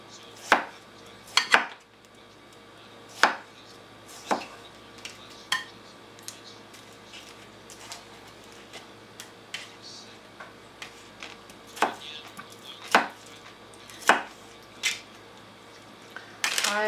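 Knife chopping ingredients for sushi rolls on a cutting board: sharp, irregular, close-up thwacks spaced a second or two apart, with light clatter between strikes and no speech.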